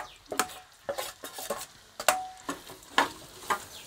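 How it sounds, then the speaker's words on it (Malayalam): Shallots sautéing in a pan for a Kerala-style fish head curry, a quiet sizzle punctuated by a rhythmic series of sharp spoon scrapes and clinks against the pan, about two per second. "കൊച്ചുള്ളിയൊക്കെ ഇട്ട് നമുക്ക് ഏകദേശം നന്നായിട്ടൊന്ന് മൂപ്പിച്ചെടുക്കാം"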